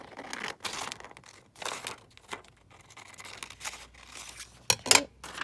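Scissors cut through polka dot paper in short snipping bursts with crinkling between, close and fairly quiet, ending in a couple of sharper rustling snips.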